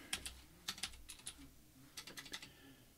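Keys clacking on a computer keyboard in two short bursts of close, crisp taps, with a pause between them, while a terminal command is typed.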